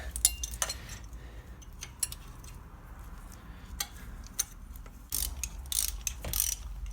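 A wrench breaks loose and turns engine bolts on a Ford Focus 1.6 diesel during engine replacement, with close metallic ratcheting clicks, clanks and taps in irregular bursts over a low background hum.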